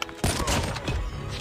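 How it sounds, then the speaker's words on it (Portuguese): A sniper rifle fired without aiming down the scope in Call of Duty Mobile, one loud close blast that hits after a brief quiet lead-in and rings out with a long, dense decay. "Não é um tiro de hip fire, é blank scope o nome."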